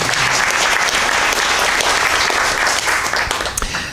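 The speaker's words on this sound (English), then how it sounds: "we can still clap, right?" Loud, dense applause fills a school board of education meeting as an honoree is recognized, continuous clapping for nearly four seconds.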